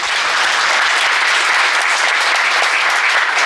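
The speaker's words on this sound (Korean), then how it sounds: "박수 한 번 더 쳐주실래요?" Dense, loud applause from a conference audience at the Holy Combat Christian conference, a steady wash of clapping sustained for several seconds with no voices rising above it.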